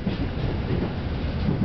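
A running train in Tokyo gives a continuous, fairly loud rumble with a faint rhythmic clatter, heard from on board and steady throughout, with no talking.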